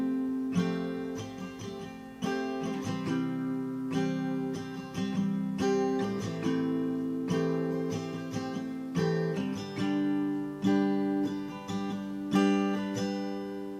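An acoustic guitar with capo strums the four-chord intro progression of a song, each chord ringing out before changing, steady and clear with no voices.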